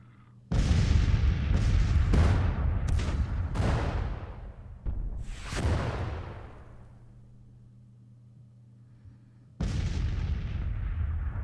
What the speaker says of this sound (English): I wonder if Barksdale's band will fire on this detachment.